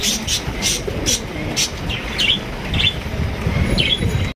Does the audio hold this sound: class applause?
no